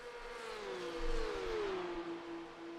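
A race car engine at Road Atlanta in a sim racing game holds a steady high whine whose pitch falls gradually, as if easing off for a corner, heard alone at moderate loudness.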